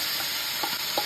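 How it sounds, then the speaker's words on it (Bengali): Small chuno fish sizzle in a pan with a steady, close hiss, and a few soft stirring scrapes come through. No one speaks. "এইখানে মাছ ভাজাভাজি চলছে।"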